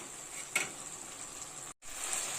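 Spice paste with chopped tomato and green chili frying in a pan, a steady soft sizzle with a brief stir scrape early on and a momentary dropout near the end.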